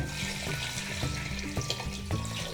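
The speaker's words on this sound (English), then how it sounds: "Abby, you want to put in 4 cups right away. It's going to splash" Water pours into a soup pot for matzah ball soup in a steady, loud gushing stream with splashy surges throughout.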